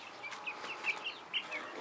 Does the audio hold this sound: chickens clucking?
yes